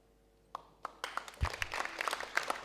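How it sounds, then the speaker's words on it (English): At a secondary school debate semi-final in Lae, a few scattered claps start the applause, then the audience builds into fuller, uneven clapping for the second speaker. "So round of applause for the second speaker of Lay Secondary."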